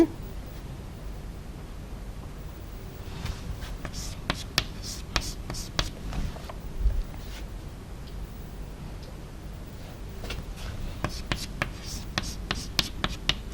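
Pen or marker drawing a molecule by hand on a board or paper, faint scratchy strokes and taps coming in irregular bursts, quiet and close.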